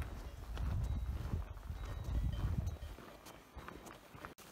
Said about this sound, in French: Là il y a des vaches ou en tout cas très ressemblants qui marchaient dans la montagne à côté.